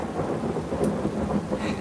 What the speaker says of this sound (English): That lightning was a little bit closer.